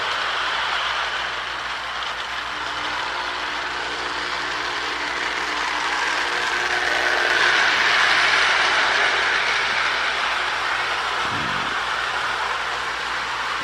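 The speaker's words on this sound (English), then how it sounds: "Good running little Crooks locomotive." A small Marx Crooks toy locomotive runs steadily, giving off a close, constant mechanical whir and rattle that swells slightly midway and continues without a break.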